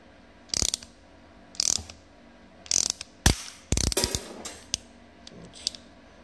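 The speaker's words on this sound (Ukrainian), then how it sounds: "І тепер ми починаємо його заклепувати." Goebel GO-12-P ratchet rivet tool setting a rivet, a series of sharp, close ratcheting clicks in five or six quick bursts, each a short burst of clicking, ending in a final snap.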